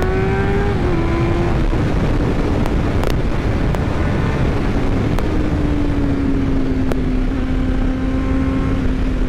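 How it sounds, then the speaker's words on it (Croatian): A 2011 Honda CBR 600 F runs steadily while being ridden on a bumpy road, a smooth engine tone gliding slightly in pitch under constant loud wind rush, with a few sharp clicks. "Ovo dosta lipo motor radi, precizan jako, dobro podnosi ovu gobavu cestu."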